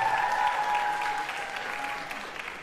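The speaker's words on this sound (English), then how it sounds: "Round of applause for Gavin." Spring concert crowd at a high school claps for members of the Lancer Singers, a dense, even round of applause that gradually thins out near the end.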